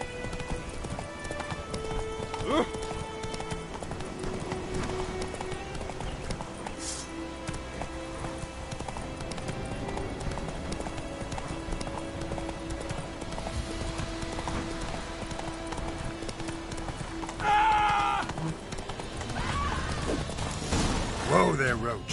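Roach, a horse in The Witcher 3, gallops with steady clip-clop hoofbeats running through the whole stretch, blended with game music and ambience while someone talks over it.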